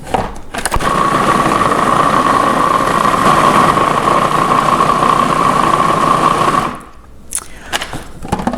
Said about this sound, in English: This is now on a minute of pureeing, and I'm going to give it a little bit more